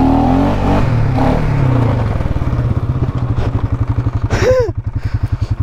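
A quad ATV with no clutch revs hard during a wheelie, its engine firing in rapid throbbing pulses that rise and fall, with a brief voice heard at the start.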